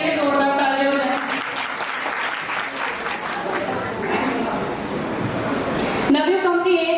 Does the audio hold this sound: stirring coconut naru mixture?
no